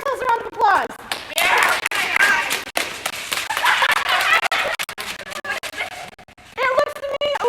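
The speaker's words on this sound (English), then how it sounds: "Give yourselves a round of applause." 8th grade students clap for themselves in a classroom event, a burst of scattered, uneven claps and slaps that swells, fades, then returns, with voices calling out and talking over it.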